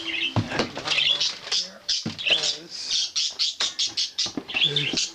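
Small birds chirp in quick, repeated bursts close by, mixed with light pattering sounds and a voice talking intermittently.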